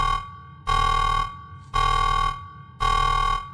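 Alarm sound effect played on a live stream: three loud, identical buzzing blasts, each about a second long, spaced by short gaps, with no talking.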